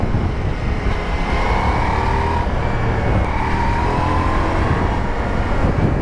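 Steady, loud engine drone and wind rush from a motorcycle, either a Royal Enfield Himalayan 450 or a Ducati Multistrada V4S, cruising along a countryside road, holding an even roar throughout with no talking.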